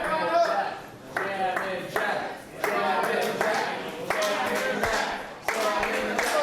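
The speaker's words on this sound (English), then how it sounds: "The crowd erupting with Jammin' Jack chants." Wrestling crowd at an independent show clapping and chanting in rhythmic bursts, fairly loud and close, with voices heard among the rhythmic bursts.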